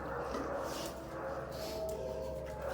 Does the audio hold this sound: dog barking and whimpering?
yes